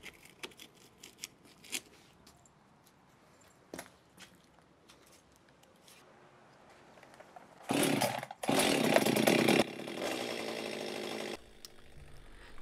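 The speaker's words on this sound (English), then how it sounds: "To do the first stage of rough cutting, I'm using a chainsaw." Chainsaw rough-cutting a rotten tree stump, a loud buzzing cut of about four seconds coming after quieter scattered knocks and handling noises.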